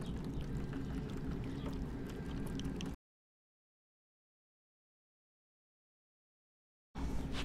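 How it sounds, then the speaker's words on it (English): Dr Pepper soda is poured over a pork butt in a foil tray, a soft, steady splashing pour for about three seconds, then silence before the sound briefly resumes. "I'm gonna take Dr. Pepper, just the same one I was spritzing with. I'm gonna pour it all over the pork butt."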